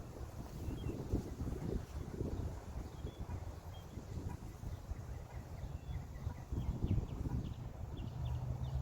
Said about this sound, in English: Obviously the wind is getting into it.